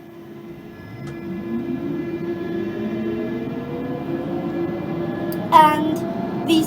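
A London Underground Central Line train in a rail simulator game, a steady motor whine rising in pitch as it accelerates over a rumbling running noise, with a brief sharp squeal or bleep near the end.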